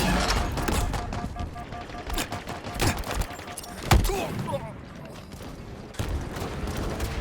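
Weapon fire and clattering mechanical handling sounds in a Halo Infinite multiplayer match, scattered shots near and far over a busy game soundscape, with a player talking throughout.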